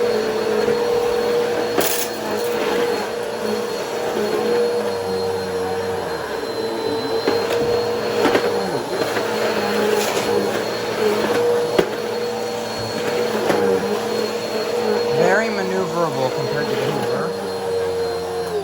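A Hoover Anniversary upright vacuum cleaner runs loud and close with a steady whining motor drone that shifts in pitch as it is pushed around, with intermittent bumps and rattles.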